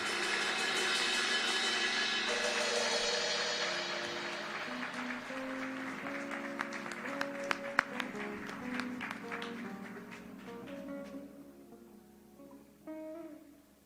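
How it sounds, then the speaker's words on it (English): Applause for the Reverend Al Sharpton, a civil rights leader, at the funeral of Amir Locke; the clapping is faint and overlaid by sustained organ or keyboard chords, fading after about ten seconds, with a final short burst. "let's give a great round of applause for America's civil rights leader, the Reverend Al Sharpton"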